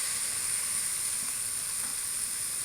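Medium-diced onion and shallot sizzle in a pan at the start of a slow-braised lamb shank dish, producing a constant, even hiss with faint crackle and no talking.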